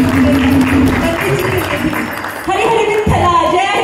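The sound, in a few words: audience clapping for the children after bhajans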